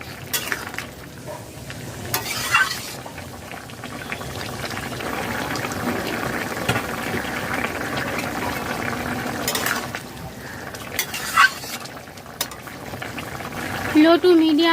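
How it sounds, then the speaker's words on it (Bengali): A kohlrabi, potato and soybean curry simmers in a pot over a low-to-medium flame, giving a steady bubbling and sizzling bed with occasional stirring scrapes and clinks, close and moderately loud. "লো টু মিডিয়াম ফ্লেমে সবজি দিয়ে 4 মিনিট ফুটিয়ে নিয়েছি"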